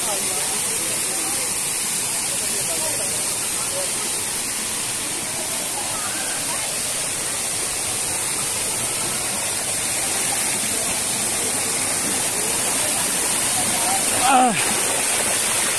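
Loud, constant rush of Bambi Falls in Negros Occidental, a dense, unbroken roar with a brief voice near the end.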